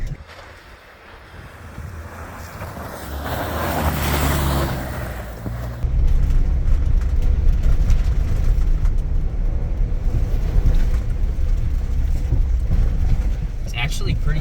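A 2022 Ford Bronco in two-wheel drive works along an off-road trail, with a rising engine rush and heavy wind buffeting, then a steady rumbling drive noise as the wheels spin. Voices talk over it.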